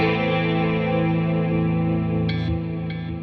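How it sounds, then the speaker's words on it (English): Electric guitar played through the tri-chorus effect of a Fractal Axe-FX III modeler, sustained chords shimmering with a wide, lush chorus and slight grit, fading slightly at the end with no talking. "Now for our chorus sound, we can either use the tri-chorus."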